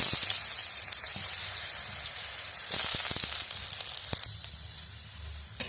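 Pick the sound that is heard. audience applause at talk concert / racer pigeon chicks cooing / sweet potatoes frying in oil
sweet potatoes frying in oil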